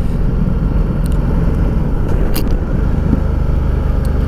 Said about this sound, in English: She does pop, pop, pop down the gears as well if you go down quite heavy. It's got a lovely sound to it, really.